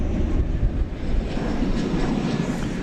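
An American Airlines Airbus A321 at DFW airport, a broad continuous jet engine roar that holds steady and fairly loud throughout, with no voices.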